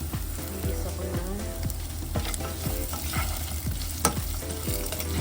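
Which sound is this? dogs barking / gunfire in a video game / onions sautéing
onions sautéing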